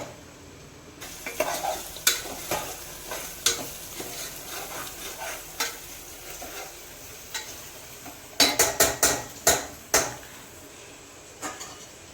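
Onions fry in a pan for mutton curry while being stirred, producing a steady background sizzle with sharp, irregular scrapes and clinks of the spoon against the pan, clustered most heavily toward the end.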